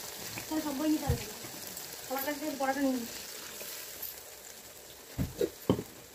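Water poured into a pan of frying catla fish curry spices sets off a soft sizzle and bubbling beneath someone speaking, with a couple of louder splashy stirs near the end.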